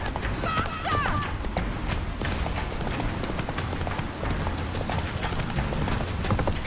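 Roach, the horse in The Witcher 3: Wild Hunt, gallops in a steady, rapid clip-clop of hooves that runs the whole time, with a brief whinny-like cry early on and a busy background mix.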